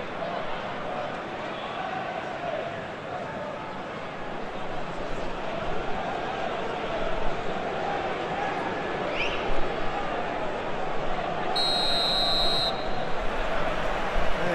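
A referee's whistle signals kick-off at a Gabon vs Niger U-23 Africa Cup of Nations football match: one clear, sustained blast late on, heard over a constant roar of the stadium crowd and a commentator talking.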